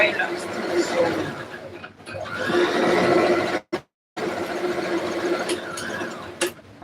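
A sewing machine stitches a pant in bursts of rapid whirring, pausing briefly between runs, while a person talks over it.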